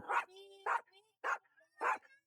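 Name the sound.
dog walking behind the speaker in a square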